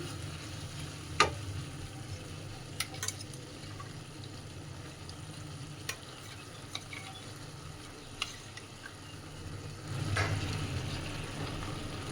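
Bottle gourd stems fry in a pan with a steady, soft sizzle as poppy seeds go in, with a few faint clinks and a slight swell of hiss near the end.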